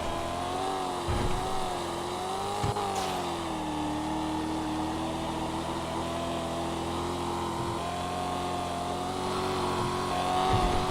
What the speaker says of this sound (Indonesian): Itu kan sekarang suara turbonya